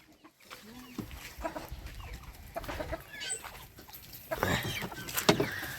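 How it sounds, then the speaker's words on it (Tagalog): Native chickens cluck in a rural Bicol yard, with a few soft intermittent clucks early and a louder burst of squawks near the end, close by with faint background voices. "Lagang manok ni nanay."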